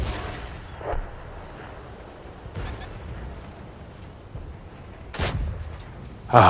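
Tank gun fire in World of Tanks: a few scattered booming shots over a quiet engine hum, the loudest burst near the end, no talk.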